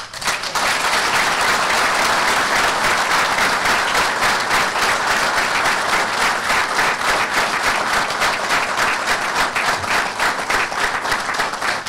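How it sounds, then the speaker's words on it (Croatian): Sustained, loud applause from a large audience at a commemorative speech event fills the whole stretch, a steady wash of many hands clapping without a break. "aplauz mom komandantu Sakibu Mahmuljinu."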